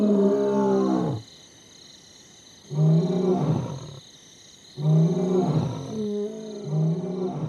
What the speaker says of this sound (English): the lions square off with their roars.